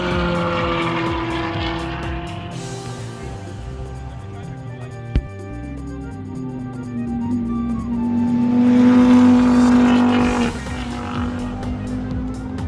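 An Audi TT race car competes at the Pikes Peak International Hill Climb, its engine a loud sustained drone that shifts pitch and swells to a higher-revving peak before easing off, with a sharp click partway through.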